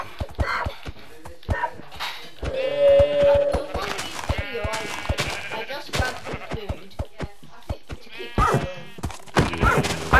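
Minecraft sheep give repeated bleats with a few other animal calls, sounding in bursts among game clicks and footsteps, while players talk over them.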